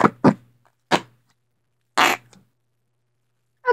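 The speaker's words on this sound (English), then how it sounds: "it's making fart noises, so that's fun" Slime being squeezed lets out a series of short, wet fart-like squelches, about five separate bursts spaced unevenly with silence between them, loud and close.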